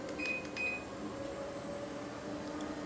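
BYCON 3.5HP electric treadmill motor running at maximum speed gives a quiet steady whir and hum with a few faint electronic beeps early on, no talking.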